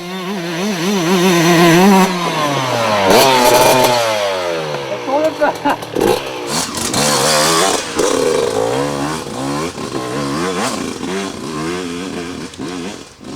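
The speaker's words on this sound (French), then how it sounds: "Le moteur va bien, il gueule bien dans les tours" A 2006 Gasgas 125 enduro two-stroke motorcycle revs hard on a winding trail special stage, its engine screaming up and down through the rev range with rapid rising and falling pitch sweeps, loud and close throughout.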